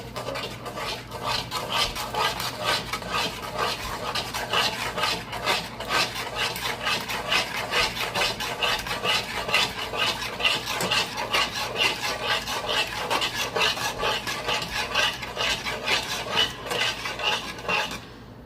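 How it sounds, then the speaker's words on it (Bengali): A metal spoon stirs and scrapes spiced masala mixed with yogurt in a pot for egg biryani, a steady rapid clatter and rasping rub that continues evenly throughout. "মশলাটা ভালো করে কষানো হয়ে গেছে, এর মধ্যে এবার দই দিয়ে দেবো। এবার ভালো করে নেড়ে নেব।"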